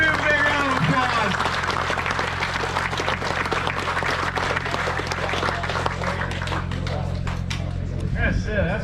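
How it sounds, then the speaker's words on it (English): A crowd at a kayak fishing tournament breaks into sustained applause and clapping with some cheering voices mixed in, steady and fairly loud for several seconds. "Give him a big round of applause."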